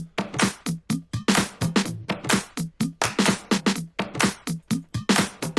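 A remix groove layers a clap group over earlier percussion, dense bright hits repeating in a steady, fast pattern, loud and close with no talking.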